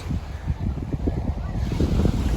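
Steady wind blowing across a small bay peninsula on the coast at Le Castella, Italy, a continuous low rumbling buffet on the microphone throughout with no pauses.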